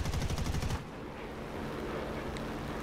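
A War Thunder aircraft, flown on the French side, fires its guns in a rapid rhythmic burst of close, loud shots lasting under a second, then cuts to a steady low engine drone.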